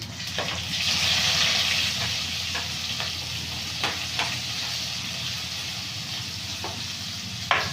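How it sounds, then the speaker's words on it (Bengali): Onion fries in hot oil with bay leaves, dried red chillies and five-spice seeds in a village kitchen, giving a steady close sizzle broken by occasional stirring scrapes and clinks, with no voices. "দিয়ে পেঁয়াজটা ভাজা ভাজা করে নেব"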